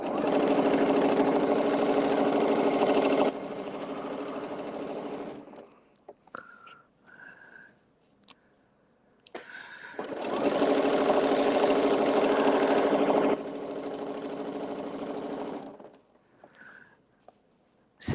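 A sewing machine stitches a fan blade quilt block in two long, fast, steady whirring runs separated by a quiet pause with small clicks as the fabric is rotated and aligned.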